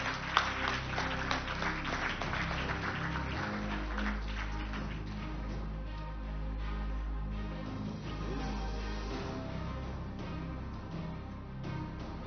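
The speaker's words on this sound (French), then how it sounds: "on l'applaudit très fort" Applause from an audience at an awards ceremony for Provence Africa Connect honours, a steady wash of many hands clapping over a low hum, fairly even throughout and fading slightly near the end.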